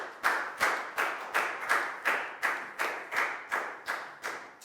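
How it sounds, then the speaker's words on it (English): A class of schoolchildren clapping together for a classmate during a Year 4 maths lesson, about a dozen evenly spaced, fairly near claps in a steady rhythm with no talking over them. "High five and a big round of applause for Chu"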